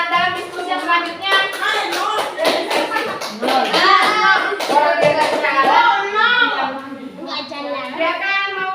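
A school class claps for group 6, a scattered burst of hand claps with children's voices and talk over it throughout.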